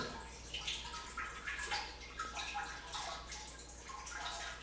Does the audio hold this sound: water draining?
yes